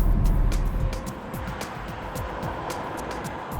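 A car rolls along a road on General Ultimax RT43 all-season tires, a steady low road and tire rumble with faint cabin noise, no voices.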